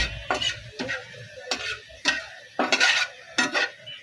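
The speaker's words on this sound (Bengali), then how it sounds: "এখন কিছুক্ষণ তেলের মধ্যে দিয়ে একটু ভাজা করব" Whole spices frying in hot oil in a pan for a fish-head and moong dal murighonto, heard as short, irregular bursts of sizzling and scraping from stirring, close and fairly loud with brief gaps between.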